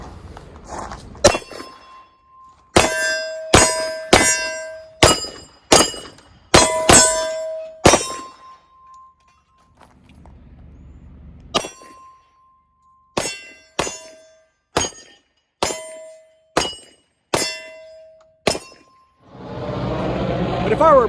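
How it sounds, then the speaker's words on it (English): Sig Legion P220 pistol in 10mm fired at steel targets seven yards away: a series of sharp, loud shots, each followed by a ringing clang from the steel, in quick groups with short pauses between strings. "shooting the 10 millimeter"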